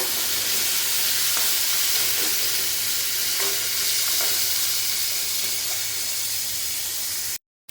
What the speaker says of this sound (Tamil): அதோட கொஞ்சமாக இஞ்சி பூண்டு விழுது, இது எல்லாத்தையும் நல்லா சேர்த்து மிக்ஸ் பண்ணி விட்டுக்கோங்க.